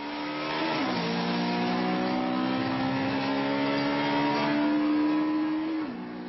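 Modified cars fitted with altered parts for extra speed, among them a Honda New Civic Si, rev hard during daytime speed tests on a federal highway, the engine note climbing steadily with shifts, loud and sustained before easing off.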